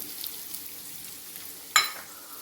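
Garlic, green chilies and spices frying in a pan with steady soft sizzling throughout, then a sudden louder hiss as something is stirred or added, fading back to a gentle crackle.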